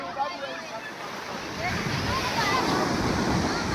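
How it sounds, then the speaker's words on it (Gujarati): Sea waves wash onto a beach in a continuous broadband rush, with the surf swelling louder partway through and wind noise buffeting the microphone. "તમે મોજાનો અવાજ સાંભળજો મિત્રો."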